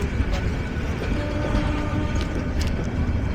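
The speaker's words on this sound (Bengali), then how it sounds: "পেছন থেকে আন্তনগর একতা এক্সপ্রেস প্রবেশ করছে জয়দেবপুর রেলওয়ে জাংশনের 2 নম্বর" Intercity Ekota Express rolling into platform 2 at Joydebpur railway junction, a steady loud rumble of wheels and rail noise filling the whole stretch, with voices faintly under it.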